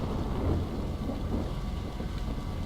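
Steady heavy rain pours with low rumbling thunder in a Lord of the Rings: War in the North game scene, a dense continuous wash of noise with no voices.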